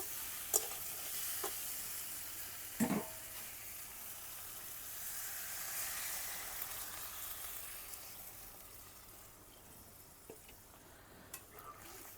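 Water poured into a rohu fish curry of spiced oil, potato and tomato, setting off a faint, even sizzle and hiss. A few light stirring knocks come and go, and no one speaks.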